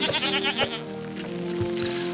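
A goat bleats in the video game Hero of the Kingdom III, a loud, close, wavering cry that fades into a steady ambient hum.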